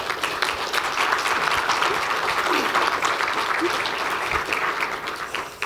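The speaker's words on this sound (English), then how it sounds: "Can we give them a round of applause?" An audience at a pediatric care product development event gives a sustained round of applause, a dense, even wash of clapping hands that holds steady throughout.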